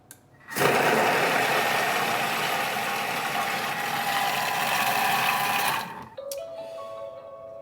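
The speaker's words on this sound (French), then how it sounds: "Je vais venir mixer le tout 5 secondes, vitesse 5." A Thermomix blends cheesecake ingredients at speed 5, a loud, even motor whir lasting about five seconds before cutting off into quieter mechanical clicks.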